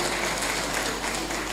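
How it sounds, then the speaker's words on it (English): Dense, steady clapping from a crowd at an African Traditional Medicine Day event, loud and continuous throughout with no pauses. "Please a round of applause for them one more time."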